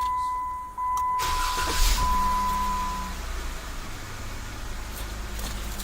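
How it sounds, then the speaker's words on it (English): Remote starter firing up a 2012 Jeep Wrangler's engine: a brief cranking whine and a rising catch, then a steady idle rumble that settles and holds, close by with no talking. "we can also trigger our remote starter from our long-range single-button remote by pressing and holding for 3 seconds"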